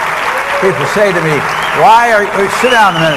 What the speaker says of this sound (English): I know you're trying to applaud